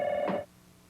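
A telephone rings once at a U.S. travel agency, a steady electronic tone sounding close and clear for about half a second before cutting off into quiet room hiss.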